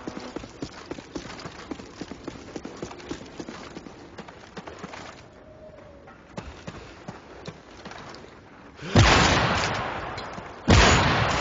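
Gunshots in Call of Duty MW3: rapid regular clicks through the first half, then two loud shots near the end, each with a ringing tail.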